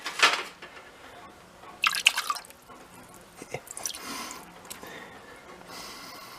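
Old, watery fuel drips and splashes from the tank of a Hyosung Aquila motorcycle left unused for nine years, with a few close liquid splatters and trickles spaced irregularly over a quiet background.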